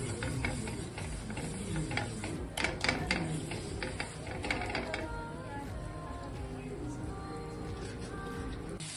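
An electric mixer grinder grinds dried chili into chili flakes, giving a steady, dense mechanical whir with rattling and gritty crunching that runs without a break.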